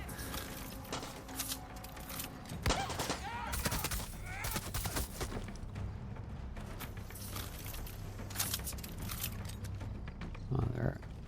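Nail gun fire in the shooter Far Cry 6, a busy scatter of sharp repeated shots mixed with combat noise and creature cries, fairly quiet overall with someone talking over it.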